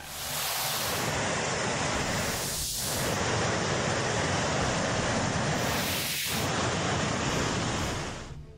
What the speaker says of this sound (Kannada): ಋಷಿಗಂಗಾ ಮತ್ತು ತಪೋವನ NTPC ಅಣೆಕಟ್ಟು ಒಡೆದು ಹೋಗಿದ್ದು ನದಿ ವೇಗವಾಗಿ ಹರಿದು ಬರ್ತಿದೆ